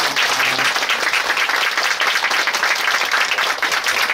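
Audience applause at a humanities concert, thanking a professor, singers and a keyboard accompanist; dense, steady clapping fills the whole stretch at close range with no voices over it.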